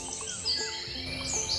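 Resident birds call and chirp in a garden in Albay, Philippines, with several short, bright calls overlapping one another against a steady outdoor background and no talking.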